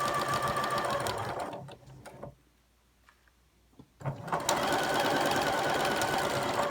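A sewing machine stitches a flying geese quilt block along the quarter-inch presser foot line, running in a steady loud whir, stopping for about two seconds of near silence, then starting up again.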